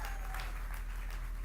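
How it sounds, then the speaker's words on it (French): Brief burst of congregation applause in a church service, dense clapping under a low hum, continuous and moderately loud with no clear voice. "Applaudissez très fort pour le Seigneur."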